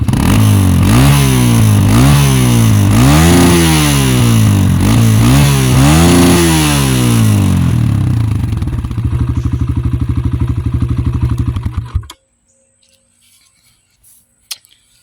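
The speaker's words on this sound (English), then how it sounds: "Another thing I like about this bike is the exhaust. It's a little quiet, but it sounds really good." A 2023 Kawasaki KLX140RF dirt bike runs close by with a buzzy exhaust, revved repeatedly in quick rising and falling sweeps, then settles to a steady idle before cutting off abruptly, leaving faint clicks.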